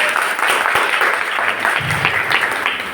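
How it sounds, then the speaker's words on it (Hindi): Audience at a motivational business gathering breaks into applause, a fairly loud burst of many hands clapping that stays steady for about three seconds, with no talk over it. "तालियां एक बार आप सभी लोग।"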